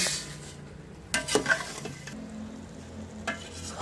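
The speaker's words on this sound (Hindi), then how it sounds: "अब इसमें सेवइयाँ डाल देंगे।" Soft stirring and scraping as vermicelli is stirred into boiling water in a pot, over a faint bubbling hiss, with a few brief clinks and sweeps at intervals.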